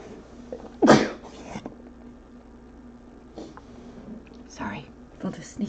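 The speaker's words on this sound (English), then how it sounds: "Sorry, felt a sneeze coming on." A single sharp sneeze bursts out close and loud, followed by quiet shuffling and soft breathy noises.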